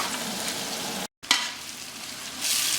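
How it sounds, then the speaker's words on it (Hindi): Sliced onions sizzle and fry in a pan as the base of a mutton curry, with a steady crackling hiss, a brief break and then stirring, close and alone without speech. "प्याज हमने डाल दिया है। अब इसकी अच्छी बढ़िया भुनाई करेंगे"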